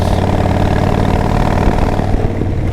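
Chopper motorcycle engine revving loud and close through its exhaust pipes, a steady throbbing rumble that swells slightly near the end, with no talking.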